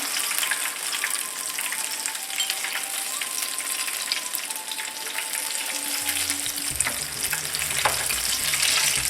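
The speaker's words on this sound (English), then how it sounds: "Poke them with a fork as they're frying so that they get cooked evenly inside." Steady crackling sizzle of dahi barre lentil fritters frying in hot oil, constant and close, with a few soft clinks and scrapes of a fork toward the end.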